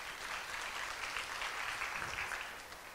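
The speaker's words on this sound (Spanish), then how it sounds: "Dale un aplauso al Señor" A church congregation claps together in a dense, steady burst of applause lasting the whole moment, with no speech over it.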